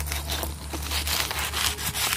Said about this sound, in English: work on sanding it down